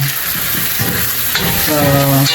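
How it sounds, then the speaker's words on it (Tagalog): Carrots are stirred into sautéed onion and garlic in a hot pan for pancit miki guisado, giving a steady close sizzle with scraping stir strokes. "lagay natin ang ating gulay dito sa ating ginisang sibuyas at bawang"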